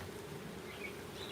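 Honey bees buzz steadily at an open hive being smoked during maintenance, a faint continuous insect drone.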